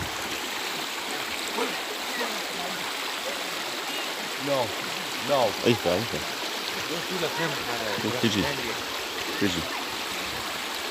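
A river flows with a constant broad rushing wash, while voices of people at the water talk and call over it in the middle of the stretch.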